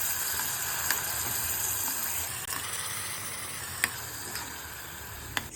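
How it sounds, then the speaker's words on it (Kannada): Water poured into sizzling masala in a pan while cooking brinjal curry (badanekayi ennegayi), a steady hiss and gush of liquid on hot spices with a few sharp clinks near the end, no talking. "ಈಗ ನಾನು ಅದಕ್ಕೆ ನೀರನ್ನು ಸೇರಿಸ್ತಾ ಇದ್ದೇನೆ"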